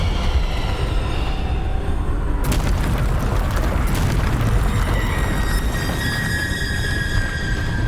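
Bombardo spell blast in Hogwarts Legacy during a boss fight: a sharp crashing burst near the middle, followed by a sustained rumbling roar and a high ringing tone, loud and continuous over game noise.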